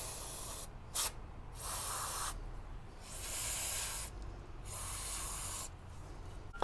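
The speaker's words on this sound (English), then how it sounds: "we're gonna go ahead and just use a little bit of brake cleaner" Brake cleaner is sprayed onto the brakes of a Toyota Land Cruiser in several hissing bursts of varying length, close and fairly quiet, with short pauses between them.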